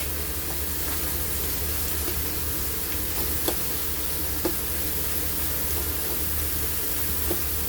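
Curry leaves and green chili sizzling in hot oil in a pan, a steady, even frying hiss with a few faint pops, close and continuous without talk.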